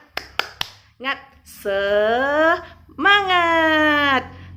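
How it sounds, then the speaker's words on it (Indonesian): An elementary school teacher leads a rhythmic 'tepuk semangat' clapping chant: three sharp, quick claps, then a couple of long, drawn-out sung calls from a single voice, with a faint tap between them. "kita tepuk semangat dulu ya"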